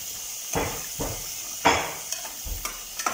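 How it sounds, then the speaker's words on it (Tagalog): Filipino home-style food sizzles while it is stir-fried in a pan, with repeated scraping utensil strokes against the metal over a constant hiss, close and fairly loud. "Ayan, nagluluto na si Ate Lisa."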